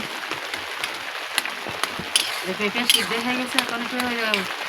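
Steady rain patters on a rooftop during outdoor cooking of papaya, a broad wash of drops with occasional sharper taps, while someone talks over it.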